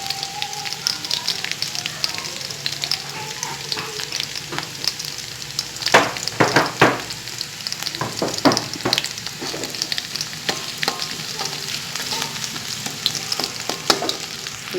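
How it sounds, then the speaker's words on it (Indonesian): Shallots sizzle in a hot pan as they fry until crisp, a constant crackling hiss with occasional sharper pops and stirring scrapes, moderately close. "Ini bawang gorengnya kita goreng sampai garing dan harum ya."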